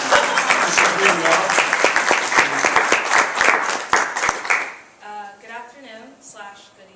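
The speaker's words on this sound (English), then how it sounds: "You can clap." Audience applause at a university talk event, a full burst of many hands clapping with a few sharper close claps standing out, fading after about five seconds as a speaker begins talking.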